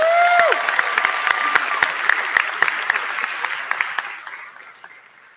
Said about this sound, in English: let's give us a big round of applause